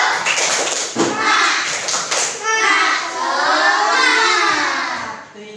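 Schoolchildren in a classroom performing a rhythmic clap chant led by their teacher, a burst of sharp hand claps and taps mixed with young voices, close and loud, giving way to the group chanting together.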